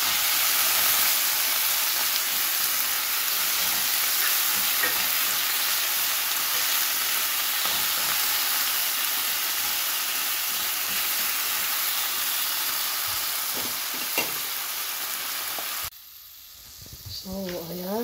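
Tomato sautés in a pan for a sardine and bitter gourd dish, giving a continuous bright sizzle and hiss with occasional stirring clicks, ending abruptly in a quieter moment.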